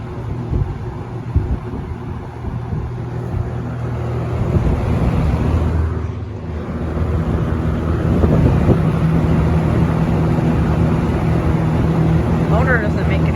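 A Lakewood K-223 electric fan motor runs with a steady, broad whirring hum and airy rush that grows slightly louder partway through, close to the microphone, with a brief dip and faint rattles near the end.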